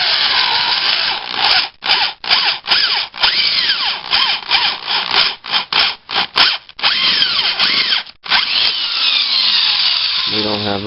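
A power drill whines loudly in repeated short bursts, stopping and starting with a rough, rubbing bite into material, during a ram air kit install on a 2000 Chevrolet S10.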